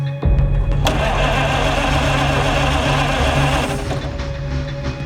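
A 100-year-old car engine cranks and catches. It settles into a loud, close, rough running rumble that eases slightly near the end, and no one speaks.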